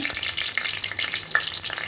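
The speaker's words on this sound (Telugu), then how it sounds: "పోపులు వేసుకున్నాం." Tempering spices sizzle in hot oil in a pan, giving a bright, close, continuous frying hiss with small pops throughout.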